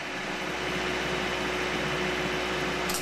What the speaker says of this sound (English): Let's weld this thing up.